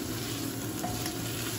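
Food sizzling as it is sautéed and stirred in a pot, a steady close frying hiss with soft scraping throughout, no voices.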